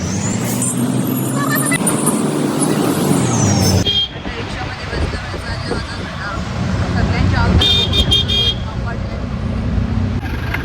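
Congested road traffic: engines rumble along with a sustained horn-like tone, then more blasts and hiss from the jam. Voices are heard nearby.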